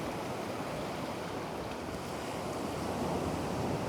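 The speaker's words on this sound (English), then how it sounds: "that water's really coming in fast" Ocean water washing in over seaweed on a shore, a steady rushing surf with wind buffeting the microphone, heard close and continuous.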